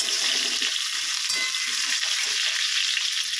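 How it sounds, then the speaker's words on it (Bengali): Potatoes fry in hot oil with a dense, even sizzle that holds steady from start to finish, then stops abruptly. No voices are heard. "তো আলুটা আমি এখন ভাজা করে নিচ্ছি"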